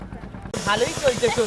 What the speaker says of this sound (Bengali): সেজন্য প্রেশার কুকারে মাংসকে দিয়ে দেওয়া হয়েছে